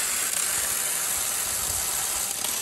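A vacuum aspirator hooked to a tap of very hot water, pulling a vacuum through polyethylene tubing, gives a steady, even rushing hiss with a faint low churn, constant and unbroken throughout.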